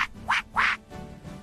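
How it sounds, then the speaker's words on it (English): A cartoonish duck quacks three times in quick succession, loud and close, with a faint musical bed underneath. "D is for duck."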